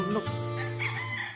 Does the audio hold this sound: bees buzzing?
no